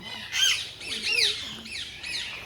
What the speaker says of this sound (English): These birds are pretty happy, man.